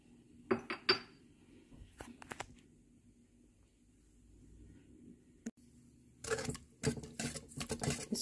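Egg and dry milk are mixed in a bowl for burger buns. Sparse spoon clinks against the bowl give way to a quick, busy run of scraping and tapping, all fairly quiet and close.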